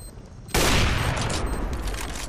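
A loud sniper rifle shot in the video game Counter-Strike: Global Offensive cracks suddenly after a low background hum, followed by a sustained booming reverberation and quieter trailing gunfire.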